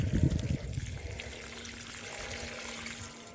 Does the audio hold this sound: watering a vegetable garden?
yes